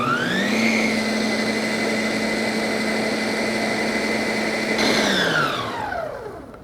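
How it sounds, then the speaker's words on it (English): Food processor whirring at high speed while blending a garlic dressing with brisket rub and roasted garlic, a loud steady whine with bright harmonics that holds for several seconds and then winds down as the motor stops. "toss them in and let the food processor do the work there"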